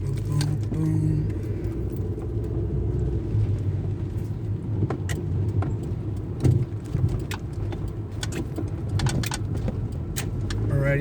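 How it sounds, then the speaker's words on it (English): Car driving through the town of Greymouth, with a steady low road and engine rumble from inside the vehicle throughout, and a few faint clicks and knocks on top. "we're driving through the town of Greymouth right now"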